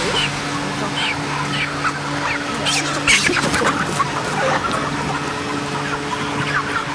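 Dense flock of roughly 40-day-old broiler chickens crowded in a barn, a continuous murmur of clucks and sharper chirps over a steady low ventilation hum, with no talking.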